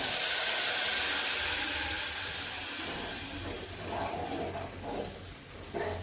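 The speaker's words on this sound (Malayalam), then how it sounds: "ശകലം വെള്ളം ചേർക്കാം കൂടുതൽ വേണ്ട" Water is poured into buttermilk curry in a cooking pot, giving a loud, continuous hissing splash that slowly fades, with faint clinks near the end.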